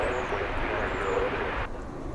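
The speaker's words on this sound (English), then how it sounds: "Emirates flight 211 and Airbus A380 on its way to Houston." An Emirates Airbus A380 airliner at DFW Airport gives off a steady, loud broadband roar of jet engines that holds evenly for about two seconds, then drops slightly in the upper range near the end.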